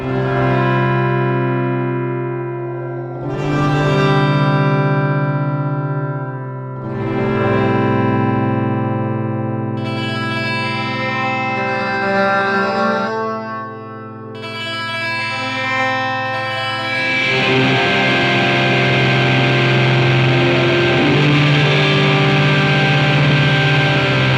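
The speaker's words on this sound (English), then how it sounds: "we can get similar sounds here using the early reflections reverse reverb mode" Distorted electric guitar chords swell in backwards-sounding reverb through a Marshall JCM 800-style amp emulation using a reverse early-reflections reverb mode, each note blooming up before the next, ending in a dense, loud wash.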